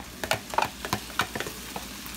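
Butter sizzles in a frying pan with onions, hearts of palm and rice for a vegan stir fry, with soft scattered crackles and spatula stirring taps, close but quiet.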